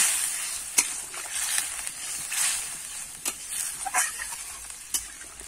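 Thin fish curry gravy with drumstick stalks sizzling in a pan while being stirred, giving a bright hissing fry with sharp scraping strokes of a spatula at irregular intervals, close and without talk.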